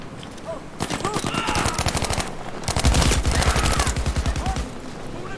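Rapid automatic gunfire from the video game Battlefield 5, loud sustained bursts with a short gap between two long volleys and a brief shouted voice near the start.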